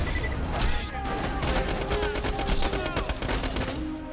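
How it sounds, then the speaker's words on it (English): Grenade going off in a video game, producing a rapid crackling volley of sharp pops and bursts that runs steadily throughout, loud and close. "That is the bad thing about this grenade. It just be popping wherever it want."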